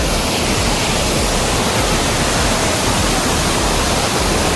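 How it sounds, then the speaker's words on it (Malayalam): Water pours into a cave near Pokhara as a dense, unbroken roar, loud and close, with no voices over it. "ഈ കേവിനകത്തോടാണ് ഈ വെള്ളച്ചാട്ടം വരുന്നത്."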